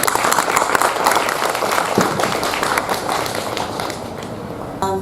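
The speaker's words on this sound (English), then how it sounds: "Please give a big clap to this wonderful man." A large audience bursts into sustained, loud applause at a program honoring a guest, dense clapping filling the whole stretch before fading slightly near the end.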